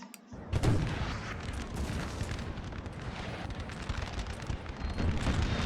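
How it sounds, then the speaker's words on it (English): Cannon barrages rumble through a Napoleon: Total War battle, heavy booms and crackling volleys layered into a dense, continuous wall of gunfire that swells after a brief quiet opening. "Now it's France's turn to start getting peppered by artillery."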